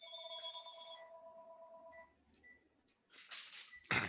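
A landline telephone rings inside a house, with quiet repeated electronic ring tones at first, then a short pause, followed by a few brief clattering bursts near the end. There is no talk.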